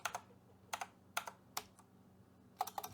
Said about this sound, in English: I'm going to go ahead and type start and then skeletons and the file